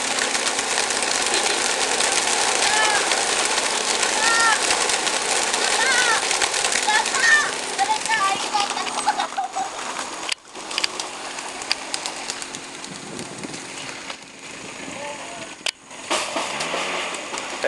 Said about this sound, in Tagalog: sumisikat ang araw nung pinawalan natin, mga ibon